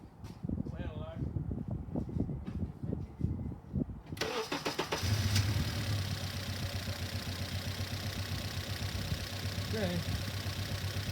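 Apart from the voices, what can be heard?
car engine starting and idling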